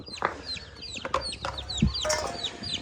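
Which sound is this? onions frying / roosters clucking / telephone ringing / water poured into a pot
roosters clucking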